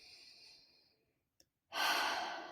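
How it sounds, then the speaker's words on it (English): A deep breath taken during a five finger breathing exercise: a soft exhale fades out, a brief pause follows, then a loud, close, airy inhale begins. "you breathe in"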